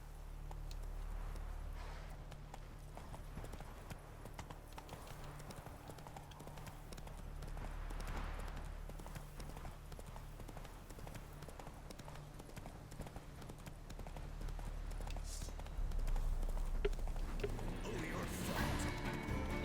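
Rapid clip-clop of a horse's hooves galloping at a steady pace in The Witcher 3 video game, fairly close, with a thud or crash near the end and no one talking.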